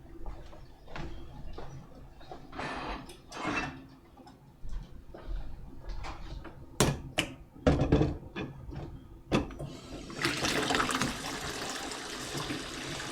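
Tap water runs into a kitchen sink around a homebrew pot of extract-kit wort being cooled, with scattered clunks and knocks of the pot before a steady rushing stream fills the last few seconds.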